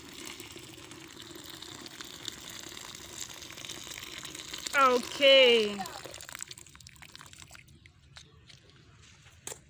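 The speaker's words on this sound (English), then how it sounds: "I'm going to pour in the hot water here" Hot water is poured into a container of neem leaves for steam inhalation in an African village, a short gurgling pour lasting a couple of seconds, with someone speaking briefly just before.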